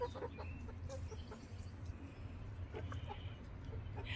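Backyard chickens clucking close by in a series of short, irregular calls over a steady low background hum, with no talking.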